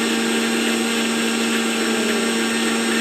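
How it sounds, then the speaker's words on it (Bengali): Electric blender running steadily while blending a chocolate milkshake, a constant loud motor whir with a strong steady hum throughout, alone without talk. "আপনারা ব্লেন্ড করতে থাকবেন।"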